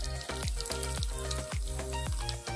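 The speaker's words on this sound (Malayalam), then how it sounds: "എണ്ണ ചൂടായിട്ടുണ്ട്, അപ്പോൾ അതിലേക്ക് കടുക് ഇട്ട് കൊടുക്കുന്നുണ്ട്." Mustard seeds crackling and popping in hot oil for a Kasaragod-style jackfruit curry, a loud continuous sizzle broken by rapid rhythmic pops, close up with no talking.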